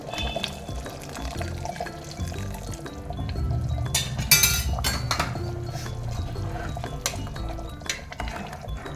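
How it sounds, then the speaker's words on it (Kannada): A little hot water is poured into a simmering jackfruit-seed gravy, a gurgling, splashing pour with light metallic clinks of a pot and utensil, busiest in the middle and easing off toward the end, with no voices. "ಸ್ವಲ್ಪ ಬಿಸಿ ನೀರು."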